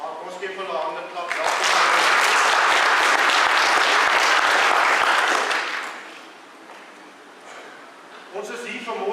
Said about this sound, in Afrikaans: Ons gee hulle hande klap.